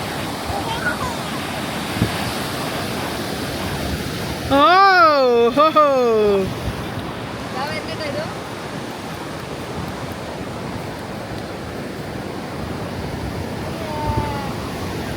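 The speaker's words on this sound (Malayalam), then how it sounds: "ആ ഭാഗത്തേക്ക് തിരമാല വന്ന് അടിക്കുന്നതാണ് നല്ല രസമാണ്" Ocean surf washes against rocks along the shore at Manly Beach in Sydney, a loud steady roar of breaking water, with a voice briefly rising over it midway.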